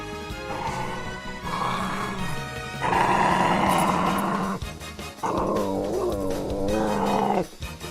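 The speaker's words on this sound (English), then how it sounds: "Oh my goodness, dog, lay down." A dog growls in long, harmonic rumbling stretches, with a couple of brief breaks between them, loud and close throughout.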